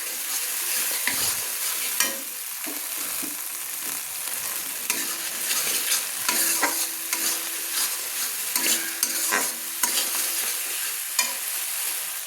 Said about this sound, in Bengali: সর্ষে বাটা, পোস্ত বাটা আর কাঁচা লঙ্কা একসঙ্গে বেটে রেখেছিলাম, সেগুলো দিয়ে দিলাম। দিয়ে ভালো করে আমি তেলের মধ্যে কষিয়ে নিচ্ছি।